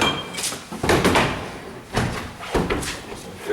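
A drop bar is knocked out of a set of double doors during forcible entry training, with several heavy metallic impacts and clunks in irregular succession, loud and close, and faint voices between blows.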